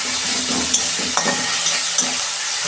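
Ginger garlic paste added to onions frying in hot oil, a loud, close, steady sizzle with a few sharp clinks of a spoon against the pan.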